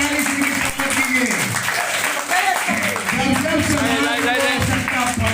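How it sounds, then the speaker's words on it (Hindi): Sustained applause from an audience at a Kasera community gathering in Sasaram, a dense, continuous wash of clapping with a voice speaking over it. "आप जोरदार ताली से स्वागत कीजिए।"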